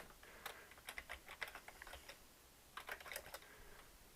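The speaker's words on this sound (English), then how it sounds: "So I'm going to type straight line" Quiet clicking of keys on a computer keyboard comes in two short bursts of typing with a brief pause between them, faint and close, with no voices.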